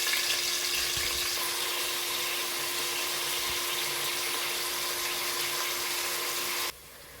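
Onions hiss and crackle in hot coconut oil, a dense, steady sizzle that holds evenly, then drops abruptly to a quieter hiss near the end.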